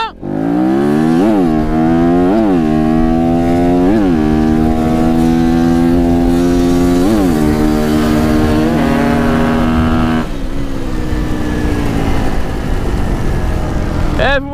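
Two engines accelerate side by side in a race, both loud and close, their pitches climbing together through repeated gear changes before dropping away near the end.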